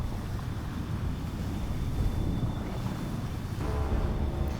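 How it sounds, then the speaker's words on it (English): A huge wave surging across terrain in the From Dust video game, a steady roaring wash of water and wind-like noise that holds at an even level throughout. "And look at that wave, it's a monster."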